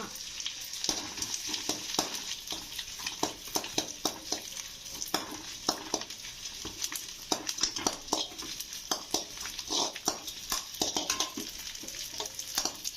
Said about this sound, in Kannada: ಅಂಟನ್ನು ತುಪ್ಪದಲ್ಲಿ ಕರೆದುಕೊಳ್ಳೋಣ.